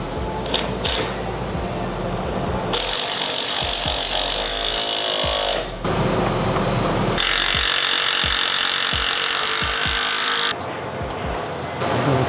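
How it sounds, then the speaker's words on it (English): A power tool runs in two long, loud, steady bursts while bolts are tightened on a Nissan 350Z kit, with clanks and handling noises close by between the runs. "Now we will tighten down the"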